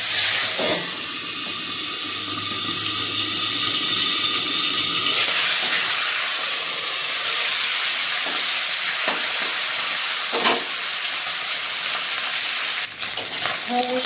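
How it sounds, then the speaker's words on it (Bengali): Marinated hilsa fish heads fry in hot oil, giving a loud, continuous close-up sizzle and crackle with occasional spatters and stirring sounds, no voices. "মাখিয়ে নেওয়া ইলিশ মাছের মাথাগুলো এবার দিয়ে দেবো"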